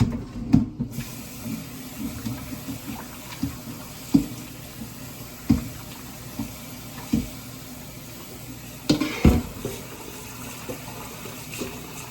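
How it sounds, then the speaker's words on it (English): Running tap water rinses cut-up chicken in a sink, a steady quiet stream broken by regular louder splashes and knocks as the pieces are handled. "And then give my second rinse."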